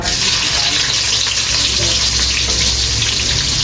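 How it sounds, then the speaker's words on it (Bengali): Chopped onion, dry chilli and bay leaf sizzle in hot oil, a loud, steady, close hiss with no pauses. "তেল গরম হয়ে গেছে দিয়েছি শুকনো মরিচ তেজপাতা দিয়ে দিচ্ছি পেঁয়াজ কুচি"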